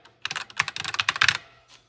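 Fingers type quickly on mechanical keyboard keys, a dense burst of crisp, clicky keystrokes lasting about a second, then one last isolated tap, close and clear with no talking.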